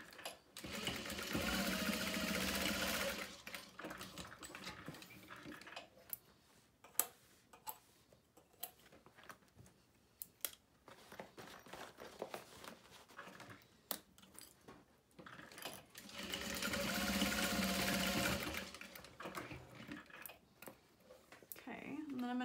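A sewing machine stitches the corners of a make-up bag in short bursts, its fast rhythmic whir running near and clear twice, separated by quieter clicks and handling noises.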